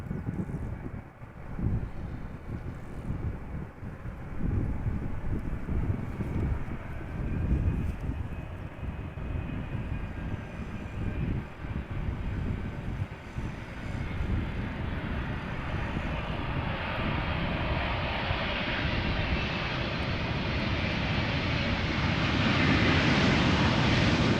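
A Boeing 777-200ER airliner arriving at Amsterdam Schiphol Airport in crosswind, its engines a steady loud roar that swells and brightens as it passes close, with wind buffeting the microphone and no voices.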